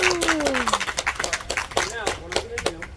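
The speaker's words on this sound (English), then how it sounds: "big round of applause for her" Scattered, uneven clapping from a small crowd at an alligator show, brief bursts of hands mixed with excited voices and talk.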